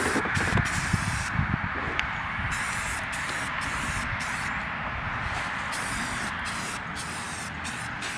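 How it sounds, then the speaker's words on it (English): A spray can applies Rust-Oleum primer to a rusted car seat frame in a Nissan 300ZX interior job, giving a loud, continuous hiss with a few brief stops, close by and without speech. "So we're just gonna give it some Rust-Oleum primer and cover up some of this rust."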